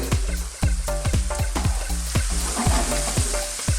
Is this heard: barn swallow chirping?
no